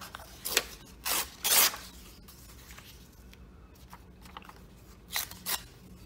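Scissors snip through a paper journal page in short bursts: a few quick cuts near the start, a quiet stretch, then two more snips toward the end, close and fairly faint.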